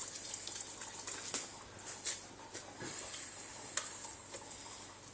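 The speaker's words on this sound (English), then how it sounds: "I usually just put some water in my bowl to keep my hands wet." Hands dipping into a bowl of water while handling sourdough, giving faint close wet splashes and drips in irregular bursts over a quiet background.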